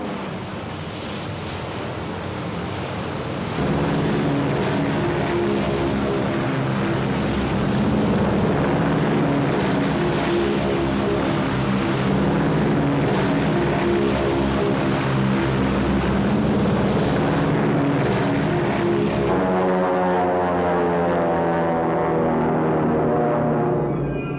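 Propeller aircraft launch from the US aircraft carriers Hornet and Enterprise at sea, a steady, loud roar of engines blended with wind and ocean noise, with a droning engine tone shifting near the end and no voices.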